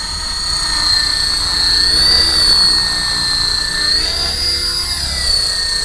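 A Belt CP V2 radio-controlled model helicopter flies over a small country property in Riacho Grande, its high whining rotor and motor drone rising and falling steadily for several seconds, loud and near with no talking.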